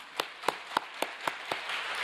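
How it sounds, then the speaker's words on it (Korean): A congregation at a church service gives rhythmic, synchronized claps, seven sharp evenly spaced beats in a row, fairly close and moderately loud, followed by a looser patter at the end. "감사 박수 올리겠습니다."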